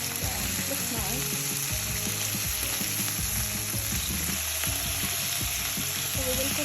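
A chicken steak fries in a pan with a loud, constant sizzle and crackle. Occasional scraping and stirring sounds come through close by.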